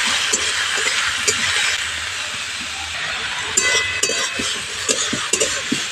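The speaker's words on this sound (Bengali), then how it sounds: "লাউটা এবার ভালো করে কষিয়ে নেব।" Bottle gourd stir-fried with spices and tomato in a pan, a steady broadband sizzle with repeated scraping and knocking of a spatula stirring throughout, close and fairly loud, no talking.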